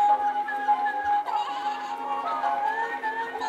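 A Little Live Pets toy lamb gives a steady, electronic-sounding bleat that holds close and clear for several seconds, its pitch wavering slightly, with no talking over it.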